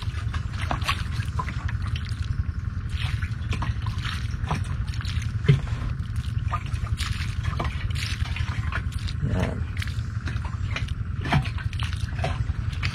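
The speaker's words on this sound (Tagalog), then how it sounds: "Then itanim na po natin, didiligan na po natin siya mga katribya po ng tubig." Water trickles and drips continuously onto soil as a freshly planted calamansi seedling is watered, close and steady, with a brief spoken word near the start.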